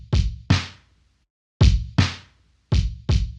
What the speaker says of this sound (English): After that, I'm mixing a kick and snare on the same track.